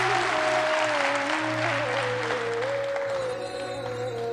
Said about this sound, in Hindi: थोड़ा रियल ताली बजा